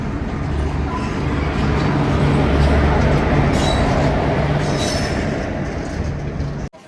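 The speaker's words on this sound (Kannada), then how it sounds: "ಎಕ್ಸ್ಪ್ರೆಸ್ ಟ್ರೈನ್ ಇದು." An express train in Punjab passes close by on the railway, a loud, sustained rumble of wheels and carriages with faint squealing, fading near the end.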